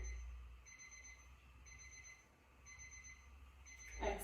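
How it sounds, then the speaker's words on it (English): An old-style alarm clock rings in repeated high electronic beeping bursts with short gaps between them. The sound is faint and somewhat distant, heard during a stretching session. "Wow, sounds like an old school alarm clock."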